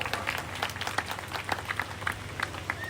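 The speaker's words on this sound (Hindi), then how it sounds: "तालियां इनके लिए होनी चाहिए एक बार जोरदार।" Applause from the gathering at a Ram Katha religious discourse in a colony, many hands clapping in a quick, scattered patter that sounds fairly distant and soft over a low hum.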